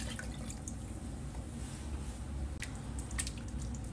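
500 ml of water poured into a cooking pot while making bò kho, a beef and carrot stew with coconut juice, giving a quiet, steady splashing flow with scattered drips throughout.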